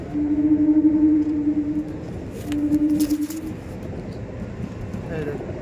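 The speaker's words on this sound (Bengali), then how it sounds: "দেখুন বাহ, বাড়ির বাচ্চা পায়রা" Home-bred baby pigeons at a loft coo softly nearby in a couple of low, drawn-out calls, with someone talking over and around them.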